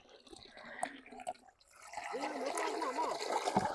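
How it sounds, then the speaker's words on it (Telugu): Fish are washed in water outdoors in a field: water splashes, drips and trickles close by, sparse at first and then building into fuller, steady sloshing, with voices talking faintly in the background. "చేపలు కడుక్కొస్తా, మళ్ళా నీళ్ళు పోసి కడిగితే మళ్ళా కడుగుతా"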